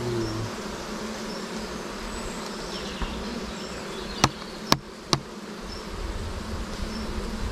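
Honeybees hum in a dense, continuous drone at a hive entrance, close and steady throughout, broken by a few sharp knocks.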